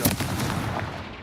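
A Confringo fire spell blasts in the Hogwarts Legacy video game, a loud burst with crackling impact noise that stays dense and rumbling for about a second.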